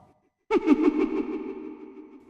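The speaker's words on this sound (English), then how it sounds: "the main difference is when you have the reverb on and off" A short musical phrase from a metal medley of Majora's Mask music plays with reverb switched on, starting abruptly after a brief silence as a tonal note with rapid pulsing that rings on and slowly decays into a long echoing tail.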